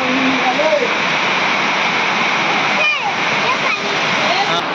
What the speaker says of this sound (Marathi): नदीला पाणी निघालं